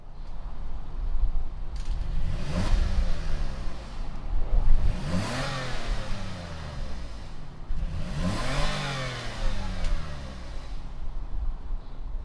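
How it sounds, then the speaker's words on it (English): A 2019 Toyota Highlander engine starts up and is revved: three distinct rising and falling revs, loud and close, each swelling then dropping back toward a steady idle. "why don't we go ahead, fire up this Highlander"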